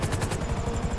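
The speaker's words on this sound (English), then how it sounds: "FIB chopper! He's on to us!" FIB helicopter in Grand Theft Auto 5, its rotor thumping in a fast, loud, rhythmic chop close by for a brief moment.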